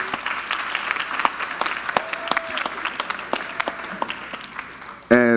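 Audience applause at a Greek life program presentation, scattered claps from a modest crowd rising and falling, ending with a sudden louder burst.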